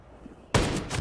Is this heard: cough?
no